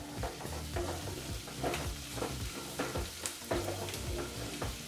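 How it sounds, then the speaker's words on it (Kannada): Two chopped onions fry in hot oil over a medium flame for a quick chicken gravy, with a crackling sizzle broken by rhythmic stirring scrapes, close and steady, and no voices. "ಈಗ ಬಿಸಿಯಾದಂಥ ಎಣ್ಣೆಗೆ ನಾವು ಕಟ್ ಮಾಡಿದಂಥ 2 ಈರುಳ್ಳಿನ ಸೇರಿಸ್ಕೊಳ್ತಾ ಇದ್ದೀವಿ"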